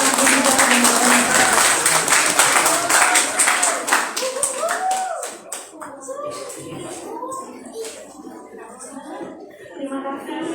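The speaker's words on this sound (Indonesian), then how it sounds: "mohon sambutannya diberikan aplaus untuk penjajah dekan Unibal dan UMK" An indoor audience at a university agreement signing between UNIBA and UMK applauds the deans, a dense burst of clapping that thins out into scattered claps before a few hands pick up again, with voices mixed in.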